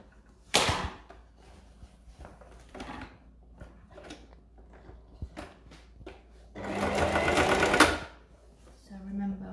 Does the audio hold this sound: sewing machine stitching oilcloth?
yes